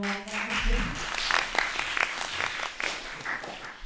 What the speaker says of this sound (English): You can clap everybody now.